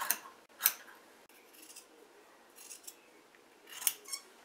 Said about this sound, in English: Let me continue cutting these sleeves off.